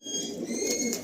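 Madrasi pigeons, a running pair of slim flying birds, cooing softly and continuously for about a second, close by with no talk.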